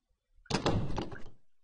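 A locked door in an Amnesia video game, a single rattling thunk as the handle is tried, brief and fairly close, tailing off after about a second.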